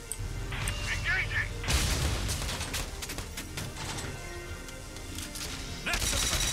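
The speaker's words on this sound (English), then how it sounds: "They're firing at me." Gunfire and explosive booms in the video game Valkyria Chronicles 4 during a battle, dense repeated shots with crashing impacts over a steady din, loud and close.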